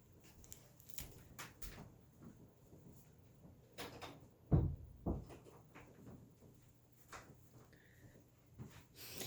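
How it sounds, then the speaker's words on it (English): Faint shuffling and handling noises, then a soft thud as a door is pushed shut nearby, followed by quieter rustling. "I'm going to close my door real quick."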